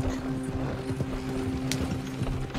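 Horse hooves clip-clop in Red Dead Online, a quick, soft galloping patter mixed with low game ambience and faint mechanical clicks.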